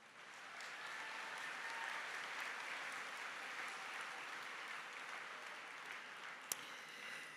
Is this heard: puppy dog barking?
no